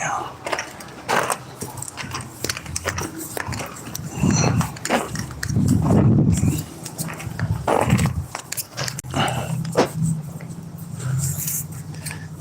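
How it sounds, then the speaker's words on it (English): Upset dogs making agitated growling and snapping noises in bursts, close by, while a person talks over them. "The dogs are upset"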